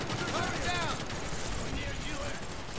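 Gunfire in Call of Duty Black Ops, with rapid bursts of shots packed into a dense, steady crackle under shouting voices.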